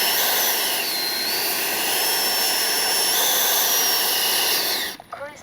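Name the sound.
electric ducted fan motor of RC F-5 jet at cruise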